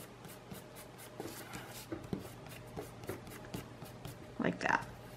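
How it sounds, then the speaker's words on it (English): Pencil lines being rubbed out with an eraser on paper, leaving soft, repeated brushing scrapes that come in short bursts, with one louder scrubbing pass near the end, all close by and without talk. "And then I'm going to erase all my string bits."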